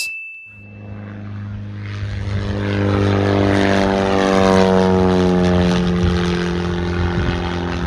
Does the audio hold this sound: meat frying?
no